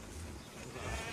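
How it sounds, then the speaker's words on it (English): Brief sheep bleat that is loud and close, heard alone over a rough, noisy background. "At last the sheep were unloaded."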